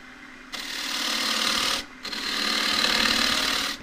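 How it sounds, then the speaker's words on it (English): A half-inch spindle gouge shear-scraping a small green casuarina bowl on a lathe, a loud continuous hissing rasp in two long passes separated by a brief pause, close and alone. "This is the half inch spindle gouge. Used as a shear scraper here."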